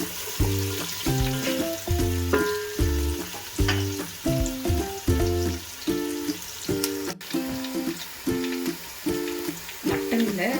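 Onions sauté in a pan for white mutton biryani, a steady frying sizzle under a repeated rhythmic clatter of stirring, with a faint voice briefly in the background.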